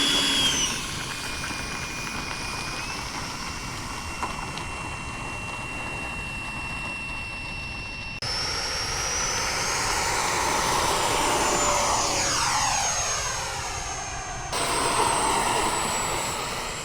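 Raptor jet fighter flying on an overcast morning, its engine roaring steadily with a rising whine and sweeping tonal shifts as it passes; loud, continuous, no talk.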